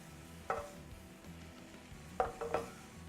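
Wilting arugula is tossed in a pan with salt and pepper, a quiet background sizzle broken by a few soft clattering stirs of a utensil against the pan.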